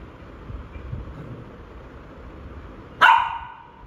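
A single loud, close bark from a dog in a new house, suddenly breaking a quiet indoor room tone near the end.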